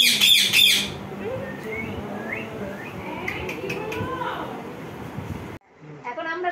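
A pet bird gives a burst of sharp, bright chirps at the start, then quieter calls follow while people talk nearby indoors.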